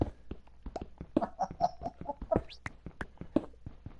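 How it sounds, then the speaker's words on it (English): Chicken clucking after laying an egg in a PS4 racing video game, a quick run of sharp, choppy clucks and short squawks in an irregular rhythm, close and fairly loud with no talking. "chicken laid an egg on the track"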